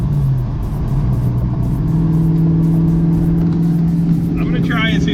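A manual-transmission car driven by a wife gives a steady, loud engine drone that holds throughout and rises slightly in pitch, with a voice talking over it near the end.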